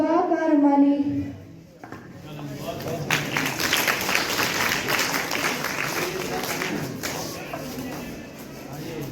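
Audience clapping for children reciting Bhagavad Gita verses at a recitation competition, a dense, sustained wash of applause that swells after a brief lull and carries on steadily.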